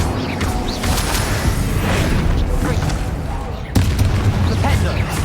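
Incendio fire spell blasts from the video game Hogwarts Legacy, several booming whooshes and a sharp burst near the end over a constant rumbling mix, with a voice talking over it.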